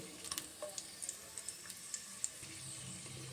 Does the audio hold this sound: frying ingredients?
yes